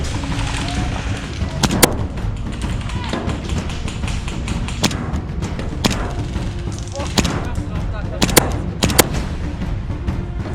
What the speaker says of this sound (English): I start taking some incoming fire.